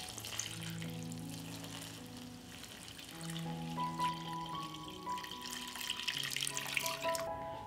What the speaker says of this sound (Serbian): i dodajem vodu da prekrije meso